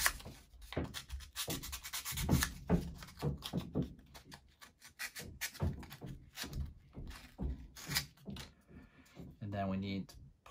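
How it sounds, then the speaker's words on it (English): Sandpaper rubs against a wooden part from a UGears Butterfly mechanical model puzzle in quick, repeated close strokes, with a short voice near the end. "For that, I'm gonna actually use the sandpaper."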